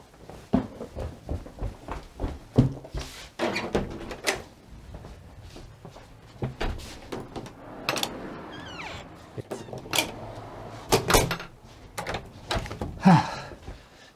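A door is handled repeatedly, with clacks, thumps and rattles scattered through the clip amid shuffling movement and occasional brief voices, fairly close and moderately loud.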